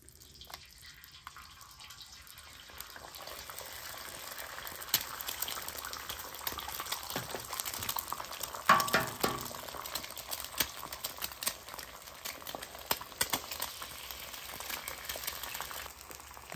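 Eggs fry in butter in a pan for a breakfast patty melt, a steady, fairly quiet crackle and hiss that rises after a couple of seconds and carries on without pause.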